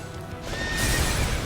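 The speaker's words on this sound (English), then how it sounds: "Oh, she's summoning a horse." A summoned horse in the video game Fire Emblem Warriors: Three Hopes gives a short, bright neigh, followed by a swelling rush of game sound and hooves, brief and close.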